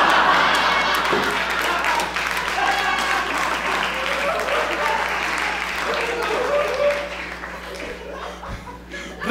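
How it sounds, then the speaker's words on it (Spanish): A comedy club audience applauds loudly and steadily for a special guest at a stand-up show, with chuckles and laughter mixed through the clapping and some voices underneath. "¡Reciban con un fuerte aplauso!"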